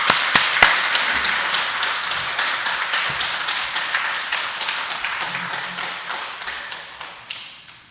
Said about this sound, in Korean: 자, 우리 나오실 때 박수 한번 하십시다.